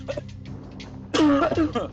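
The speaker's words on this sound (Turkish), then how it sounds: "kusura bakmayın, öksürük krizi" A coughing fit from someone narrating a first-look at the game The Tale of Bistun: a few small throat sounds, then a loud burst of harsh, rasping coughs up close, with no speech.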